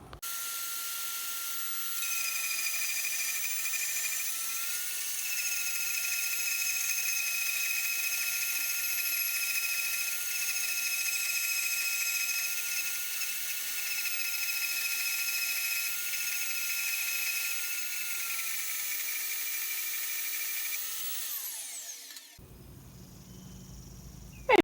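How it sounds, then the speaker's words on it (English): A grinder cleans up the edges of a 1958 pressed-bumper split-window VW bus rear frame, giving a steady high whine for over twenty seconds before it stops abruptly. "I just kind of took the grinder around those edges and kind of cleaned it up a little bit"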